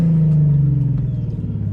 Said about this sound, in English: So this is how the car sounds, just with a muffler and resonator lead.